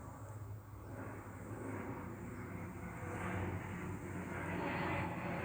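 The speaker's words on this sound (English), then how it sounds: "There's a plane going overhead." A plane passes high overhead in a remote, open setting, a steady broad engine drone that swells slightly toward the end, with no voices.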